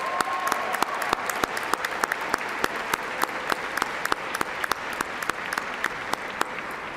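Steady, sustained applause from a large college graduation audience, dense clapping with sharper individual claps standing out close by, with almost no talking.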